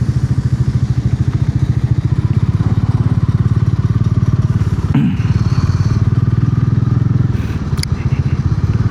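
A motorcycle, apparently a classic Triumph with round side mirrors, runs steadily with a rapid, even engine pulse throughout, loud and close, with a brief thump near the middle and no clear talk over it.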